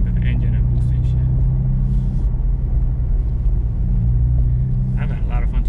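A boosted car engine hums in a steady low drone while driving, a constant rumble of road and motor under intermittent talk from people inside.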